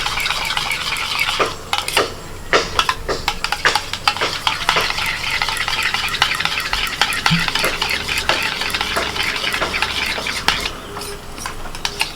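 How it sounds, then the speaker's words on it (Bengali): Sour yogurt being whisked with salt in a bowl for chicken chap, a brisk continuous clatter of a utensil beating against the vessel, close and steady with no talking. "টক দইটা সামান্য লবণ দিয়ে আমি একটু ফেটিয়ে নিচ্ছি"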